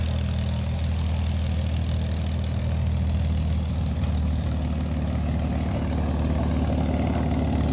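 A P-51 Mustang engine runs at a WWII weekend gathering, a steady, heavy low rumble that holds evenly throughout, loud and close, with no talking.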